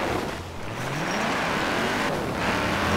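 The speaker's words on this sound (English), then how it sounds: "what a engine noise." An Audi RS 6 Avant Police Interceptor in Forza Horizon 4 roars continuously as the engine revs and climbs in pitch through a gear, loud and close, with no talk over it.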